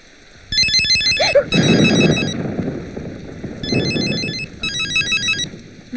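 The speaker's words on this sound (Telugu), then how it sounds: "వివేకానంద్ గారు, ఇప్పుడు ఏంటి మీకు ఫోన్?" A telephone rings loudly nearby in two bursts of rapid electronic trills, separated by a short pause, with a brief vocal sound and background clatter under the ringing.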